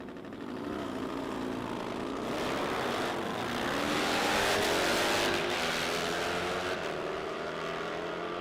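Drag race cars at the Nitro Nationals roar in a loud, sustained engine blast that swells and holds across the run with no voices.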